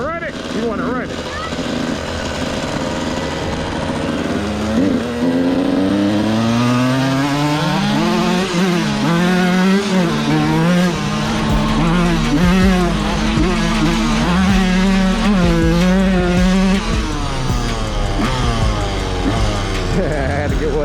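A Yamaha YZ 125 two-stroke dirt bike being ridden, its engine note rising and falling steadily through repeated revs and gear changes for about twenty seconds, loud and close throughout.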